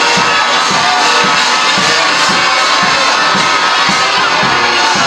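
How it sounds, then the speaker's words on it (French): A large crowd at a university graduation ceremony at Université Simon Kimbangu in Kasaï Central cheers and chants with rhythmic pulses, loud and continuous, with shouting voices throughout. "la population venue pour assister à cette manifestation, chanter, danser et acclamer pour encourager des lauréats"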